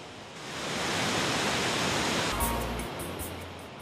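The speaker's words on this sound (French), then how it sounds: "la dernière cascade déverse ses eaux bouillonnantes sous l'arche du pont" Waterfall at the Pont d'Espagne in the Pyrenees, a steady broad roaring rush of falling water, loud and continuous, joined near the end by a low rumbling thump.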